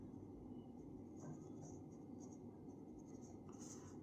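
A pencil scratches across paper in quick, faint strokes during a class 5 maths lesson, soft and close under a low steady background hum.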